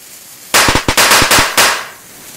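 Piccolo firecrackers going off in a quick close string of about six sharp, loud cracks packed into roughly a second, with smoky hiss and ringing lingering afterward.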